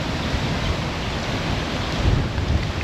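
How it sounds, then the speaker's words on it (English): Steady roaring wind buffets the surroundings near a sinkhole with trees moving, a dense broadband rush with gusts swelling louder near the end, no voices. "this is the windiest he's experienced it on the whole trip"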